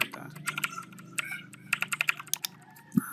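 Rapid typing on a laptop computer keyboard while entering accounting data, clustered bursts of sharp key clicks close by with a quiet room hum underneath.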